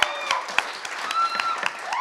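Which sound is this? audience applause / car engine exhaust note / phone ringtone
audience applause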